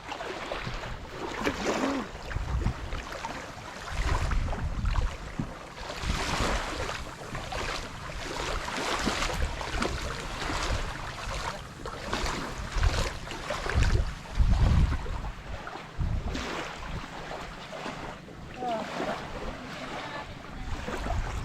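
Travelling across the sea toward Romulo Island in Pangasinan, a boat drives steadily through waves, with continuous engine rumble, splashing water and wind buffeting throughout, and no voices.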